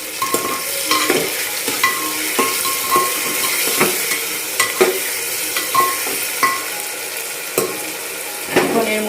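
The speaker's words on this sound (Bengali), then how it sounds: "একটু নেড়ে চেড়ে নিই।" Tomatoes frying in a pan with salt, stirred with a utensil: a steady sizzle broken by repeated close scrapes and clinks against the pan, and no talking.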